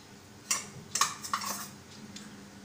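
A spoonful of butter is dropped into a pan with oil, bringing several light metallic clinks and taps of a spoon against the pan over a quiet background.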